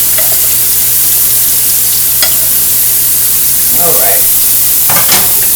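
Bacon grease sizzles steadily in a pan while breakfast fries, a loud, constant crackling hiss with occasional clinks of a utensil and a brief spoken word.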